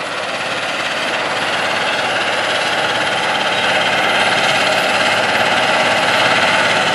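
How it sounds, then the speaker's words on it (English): A big John Deere 9620RX tractor pulling a 2210 field cultivator across tilled spring ground produces a loud, steady engine drone with rattling implement noise, continuous and unchanging, with no voices. "This big tractor and field cultivator are smoothing out the ground and firming up the seedbed after primary tillage with a chisel plow in the fall."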